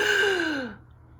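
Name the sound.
reader imitating a gasp for air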